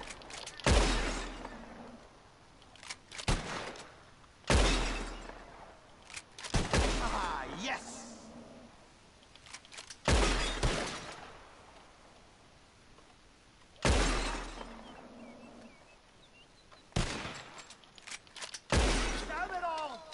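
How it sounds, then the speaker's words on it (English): Gunshots fired at bottles in Red Dead Redemption 2, loud single cracks spaced a few seconds apart, some followed by faint glass breaking and ringing tails. "Whoever shoots more of these bottles wins."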